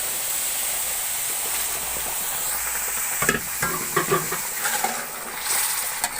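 Sugar syrup being stirred into roasted semolina in a hot pan for suji halwa, a steady hiss that breaks into sharp bursts of bubbling sizzle and stirring scrapes.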